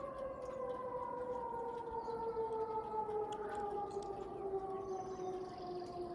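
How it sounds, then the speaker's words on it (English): A 2001-SRN tornado siren wails in the distance, its steady rising and falling tones sustained throughout against faint outdoor ambience. "Hope you guys enjoyed this one for my tornado siren."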